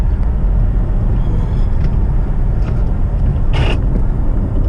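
A car fitted with a SPEC Stage 3 clutch roars loudly and steadily under hard acceleration, a dense engine drone with a brief harsher burst near the end as the transmission fails.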